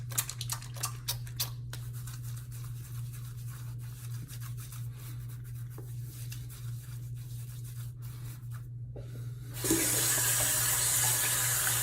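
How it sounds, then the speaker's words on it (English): Water from a shaving soap container is poured out into a sink with soft splashes and trickles over a low steady hum. The sound ends in a louder, continuous rush of running water. "let me pour some of that blue water out"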